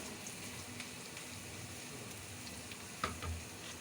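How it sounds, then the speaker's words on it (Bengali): Garlic frying lightly in oil in a pan, a quiet steady sizzle that holds throughout, with a small knock near the end. "রসুনটা হালকা করে ভাজবো যাতে শুধু ফ্লেভারটা আসে"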